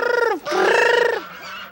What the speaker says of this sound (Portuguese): Tem aí umas 50 galinhas, botadeira.